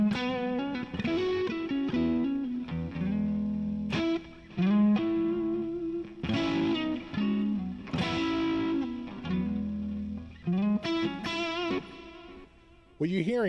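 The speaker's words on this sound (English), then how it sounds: "What you're hearing there, though, is really my stereo reverb and stereo delay" Electric guitar notes and chords ring out with spacious reverb and echoing delay trails, played in phrases with brief gaps.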